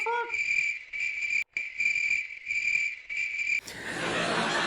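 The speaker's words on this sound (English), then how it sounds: "There's the crickets." Crickets chirp in a bright, steady high trill broken into short pulses with brief gaps, close and clear, before a burst of broadband hiss takes over at the end.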